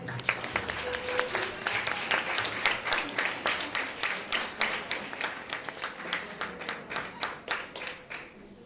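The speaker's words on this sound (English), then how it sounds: "I request all of you to give them a big round of applause" An audience at a School of Symbiosis event applauds the arriving chief guest and dignitaries. Sustained clapping from many hands is close and lively, then thins into scattered individual claps as it winds down.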